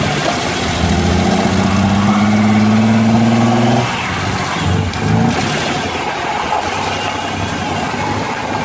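A car engine revs hard with a rising roar while power braking, then drops into a rough, loud idle and keeps running; the car has a cobbled-together oil pan fix.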